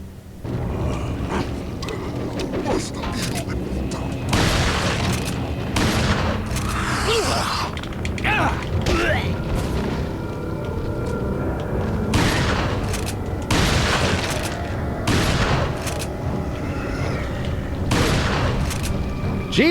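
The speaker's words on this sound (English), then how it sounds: "you took 3 freaking shotgun blasts to the face, buddy" Repeated loud shotgun blasts in Resident Evil 4 on GameCube, irregularly spaced booming shots among mechanical clatter and rumbling background game noise.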